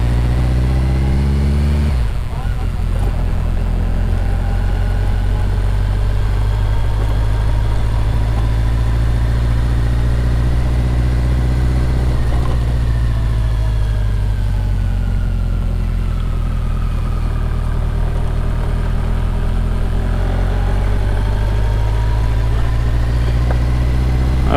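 A BMW K100 motorcycle with sidecar runs steadily on a test ride up the road, its engine droning loud and close with a sustained hum, a brief rev swell near the start, and constant wind and road rush.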